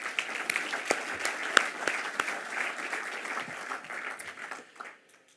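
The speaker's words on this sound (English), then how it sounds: "I want you to give them a round of applause" An audience at the RFA Convention 2023 breaks into sustained applause, a dense wash of clapping with a few louder claps standing out, holding steady before tapering off quickly near the end.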